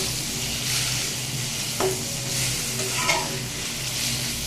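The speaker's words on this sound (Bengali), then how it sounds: "বেশ ভালো করে" Taro leaves and stems cooked with sesame paste being stirred in a pan, soft continuous sizzling with scraping spatula strokes and a couple of sharper clinks against the pan, no talking.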